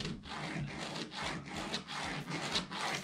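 A pen or marker is drawn along a ruler on upholstery fabric for van upholstery, producing soft repeated scratchy rubbing strokes in a quiet, close rhythm.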